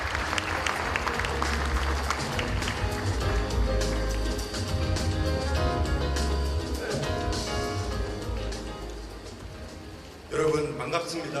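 Audience applause at the 2020 Pyeongchang Peace Forum opening ceremony greets the Minister of Unification as he comes to the stage. Dense, steady clapping fills the hall over a low musical backdrop, then dips and swells again near the end.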